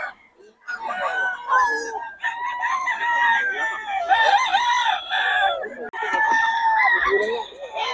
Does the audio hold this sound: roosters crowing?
yes